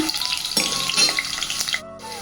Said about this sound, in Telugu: ఉల్లిగడ్డ ఇది కొంచెం వేగాలన్నమాట బ్రౌన్ కలర్లోకి వచ్చేసేయాలి ఉల్లిపాయ